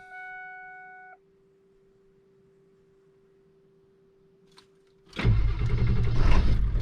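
Ford 7.3 diesel dually truck with a TS six-position chip, after the glow plugs warm up. A dash chime tone fades into near silence, then the engine cranks and catches, settling into a loud, rough diesel idle.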